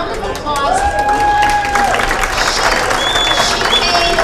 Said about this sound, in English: I think we ought to give Sue a big round of applause.